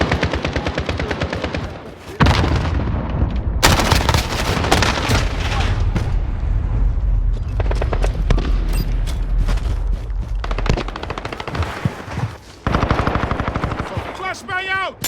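Rapid automatic gunfire from a Sykov automatic pistol and a low-recoil MP5 in a video game firefight, loud and close, with dense bursts, booming impacts and shouted voice lines in between.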